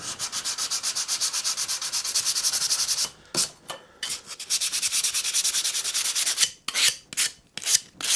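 Sandpaper scrubs polyfiller off a Squier Stratocaster guitar body in quick, rhythmic back-and-forth strokes, close and harsh, pausing briefly before the sanding resumes in shorter uneven bursts.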